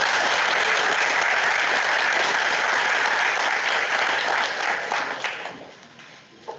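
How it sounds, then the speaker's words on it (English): Audience applause at a spring development day opening plenary, a dense sustained wash of clapping from a large crowd that holds steady for several seconds, then thins and fades toward the end. "Let's give him one more round of applause."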